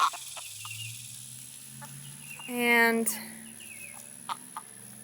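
Hens and several roosters cluck and call in a farm flock, with one drawn-out crow-like call rising in the middle and scattered clucks around it, close by, with a brief word spoken at the start.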